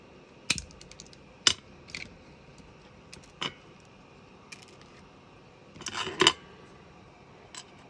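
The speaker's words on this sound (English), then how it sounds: "Let's try and cut this down so I've got the ends at the right size." Lolly sticks are cut to size with a handful of sharp, separate snaps and clicks, close and crisp against a quiet background, including a quick double cut near the end.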